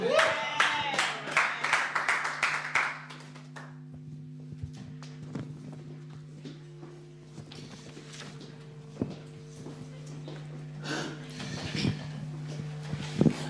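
A church congregation claps together, with a burst of applause at the start that fades into scattered claps, thumps and shuffling over a low sustained hum, with voices in the background.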